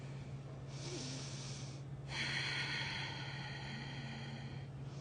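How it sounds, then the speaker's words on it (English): Audible belly breathing through the nose with the mouth closed during a power yoga session: two close, airy breaths, the second longer and slightly louder, over a steady low background hum. "make that audible breath as if you were trying to fog up a mirror, but with your mouth closed"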